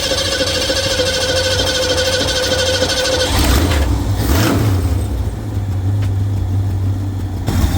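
A 1968 Ford Torino engine, just repaired with a new carburetor gasket, whirs steadily as it cranks, then catches with a louder rough surge and settles into a close, steady running idle.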